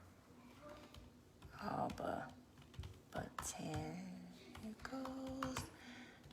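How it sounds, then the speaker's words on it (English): A computer keyboard clatters with irregular bursts of keystrokes while someone speaks quietly over the typing. "it's not letting me type there. Let me type over here."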